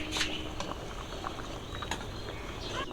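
Mung beans simmer in a pot of water, giving a soft, steady bubbling with scattered pops and crackles, fairly quiet and close, with no voices.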